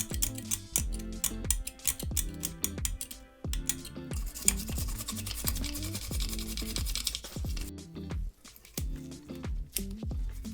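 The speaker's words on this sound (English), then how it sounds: "going to do my best with a toothbrush, the IPA, and even a dental pick very carefully to scrape some of this corrosion away without damaging the board" A dental pick scrapes battery corrosion from a Game Boy Color circuit board in repeated short, close scratching strokes with brief pauses, loud and harsh throughout, with no talking.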